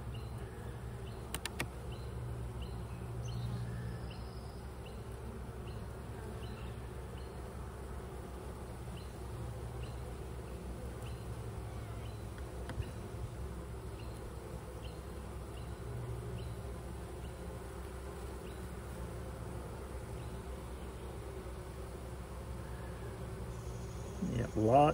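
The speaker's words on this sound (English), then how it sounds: "some bees actually festooning up on the top" Honeybees hum in an open hive during an inspection, a faint, steady low drone of many wings with occasional closer buzzes passing by.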